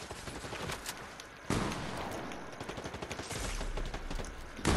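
Dense bursts of automatic gunfire from a Fortnite fight crackle continuously, with sharp louder volleys punctuating a sustained rattle of overlapping shots at mid distance.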